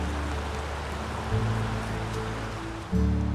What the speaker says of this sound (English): The rain has sure filled up the river again